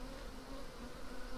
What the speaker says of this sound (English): That's why you're seeing the bees spanning the entire deck there.